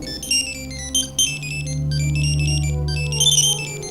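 A phone ringtone plays loudly and close, a repeating electronic melody of bright tones over a low sustained hum, with no talking.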